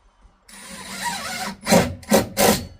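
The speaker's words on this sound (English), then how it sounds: "Now I'll put the screws in." Regular deck screws driven into a wooden clothesline bracket: a drill whirs briefly, then three short, loud bursts of grinding bite in quick succession, close up.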